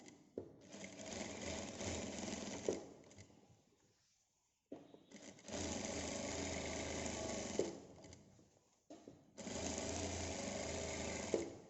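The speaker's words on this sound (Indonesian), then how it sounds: "Dijahit sampai dengan bagian bawah, sampai ujung bawah." A sewing machine stitches a tunic in three long, steady runs separated by short silent stops, heard close and alone.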